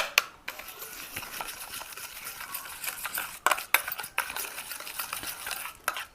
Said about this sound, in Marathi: ते 1 चमचा ही साखर झालेली ती आपल्याला ह्याच्यात मिक्स करून घ्यायची.